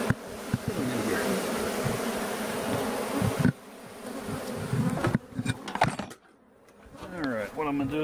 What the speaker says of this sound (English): Bees out here too